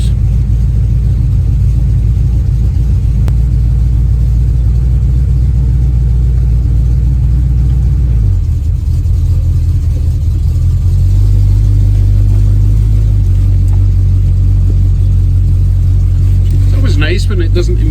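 A Chevy hot rod V8 with HEI ignition idles steadily while warming up, a loud, close, continuous low rumble whose pitch shifts slightly partway through, with a brief higher clatter near the end.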